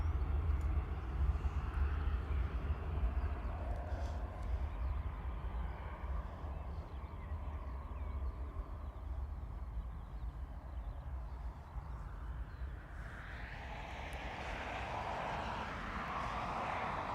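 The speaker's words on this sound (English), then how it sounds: "Ryanair rumble." A Ryanair airliner's jet engines produce a broad, low, steady rumble at a distance around Dublin Airport, with a rising roar building toward the end.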